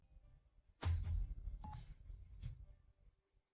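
A phone number being dialed on a keypad: a brief run of electronic dialing tones starting after a quiet moment, fairly close and clear, with low background rumble and no talking.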